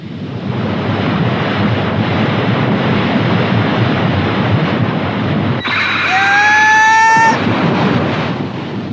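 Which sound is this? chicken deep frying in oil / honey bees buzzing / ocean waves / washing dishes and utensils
ocean waves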